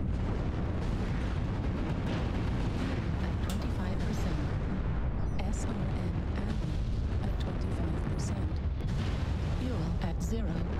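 Mech weapons fire in the video game Mechwarrior Online, with dense, continuous booming and blasts filling the whole stretch, loud and unbroken, mixed with voices talking over the game action.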